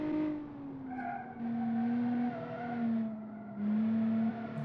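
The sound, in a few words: French car drifting with tire skid in video game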